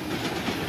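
A Duluth, Missabe and Iron Range freight train hauling converted ballast cars rolls past nearby, a steady, loud rumble of wheels on rail with faint clickety-clack throughout.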